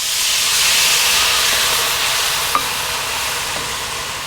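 Dry white wine hits melted butter and olive oil in a hot cast iron wok on a Kamado Joe grill, giving a loud, steady broad sizzle and steamy hiss, close up with no voices.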